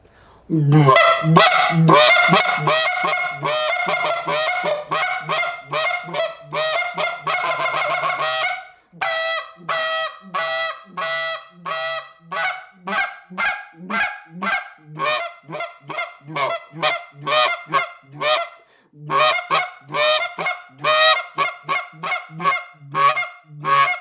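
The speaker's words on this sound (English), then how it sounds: "This is the call I run on my lanyard, Mulkir Triumph." A Mulkir Triumph goose call is blown loud and close, starting with a long run of rapid honks and then moving into a steady sequence of sharp, separate clucks and honks with short pauses between them.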